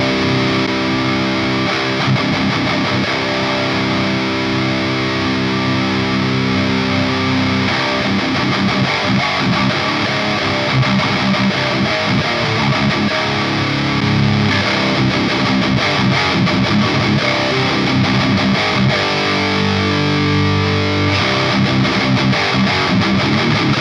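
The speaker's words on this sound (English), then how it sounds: "Channel B just has that like kind of honky character to it, and more low end." Electric guitar played through a Science Amps Totality amplifier on channel B, loud and continuous distorted chords with a honky midrange and heavy low end, with no talking.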